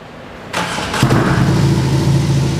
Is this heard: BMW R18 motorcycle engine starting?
yes